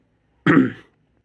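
A single short cough, close and fairly loud, alone against silence.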